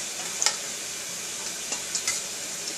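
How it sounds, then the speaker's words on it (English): Green beans and bacon simmer in a pot on a stove with a steady, hissing bubbling sizzle, close and continuous, broken by a few soft pops and light clinks. "See, it's simmering down."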